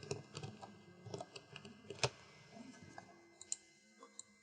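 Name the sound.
keys pressed on a computer keyboard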